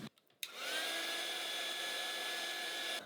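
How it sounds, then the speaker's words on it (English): A hair dryer switches on after a few clicks and blows with a steady, loud whirring hiss for a few seconds, drying a watercolor painting. "So if I grab my blow dryer here,"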